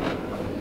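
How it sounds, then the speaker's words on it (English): A passenger train rolls along the rails during a long journey, giving a steady, close rumble with faint rhythmic clatter filling the whole moment. "this is like a 4-hour train journey"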